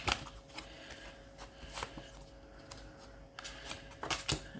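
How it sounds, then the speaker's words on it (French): Tarot cards being shuffled and drawn, giving several soft, brief papery riffles and flicks spaced across a quiet background with a steady low hum. "Je vais essayer de tirer une carte."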